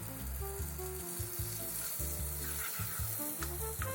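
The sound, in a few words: garlic butter melting and sizzling in a pan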